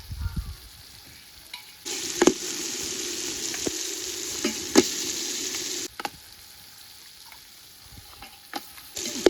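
Crab and tomatoes frying in a pan for a village-style crab gravy, a steady close sizzle with stirring scrapes and a few sharp clatters. No one speaks.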